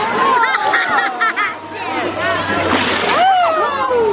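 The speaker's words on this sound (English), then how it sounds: "I didn't want him to splash me." A dolphin splashes water at a pool in the Sea World San Antonio feeding area, with wet slaps and sloshing mixed into lively crowd chatter and nearby voices.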